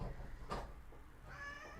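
A pet cat, probably male, gives a faint, short meow near the end amid low room noise, with a brief knock just before.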